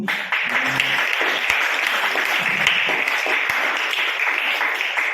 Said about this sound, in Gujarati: આ ખુશી નિમિત્તે જિજ્ઞેશના બર્થડે નિમિત્તે તો આપણે સૌ તાળીઓથી આ જમણ સાંજે લેશું